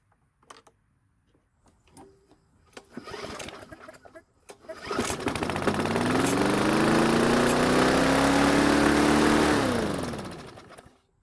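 A Bolens lawn mower engine cranks a few times with short sputters, then catches and roars loudly, revving high and steady for several seconds before winding down, close by.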